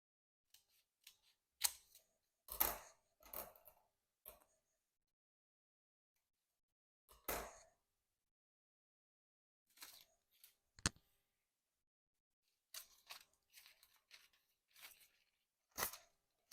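Scissors cut out a traced paper template for a Lambeth cake, giving sparse, close snips and crinkly paper rustles in short bursts separated by silent pauses.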